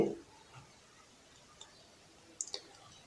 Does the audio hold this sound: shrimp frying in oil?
no